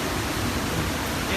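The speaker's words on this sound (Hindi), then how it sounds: "नीचे जलप्रपात है, जैसे देख सकते हो आप, ये जलप्रपात सीढ़ी से पड़ रहे हैं।" The Tirathgad waterfall near Jagdalpur in Bastar, Chhattisgarh, tumbles down beside a stone staircase, giving a dense, steady roar that fills the whole short moment without a break.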